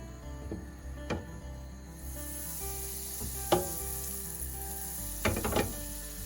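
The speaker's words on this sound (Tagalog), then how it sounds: "We will now sear the chicken." Chicken sears in melted butter in a pan over moderately high heat, a soft steady sizzle under a few sharp clacks and scrapes of a utensil against the pan.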